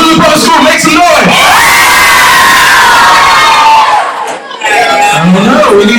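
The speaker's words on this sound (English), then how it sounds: "Elizabeth Public Schools, make some noise." A large crowd of schoolchildren at an outdoor estuary day welcoming ceremony cheers, whoops and shouts loudly, a dense sustained roar with a brief dip near the end.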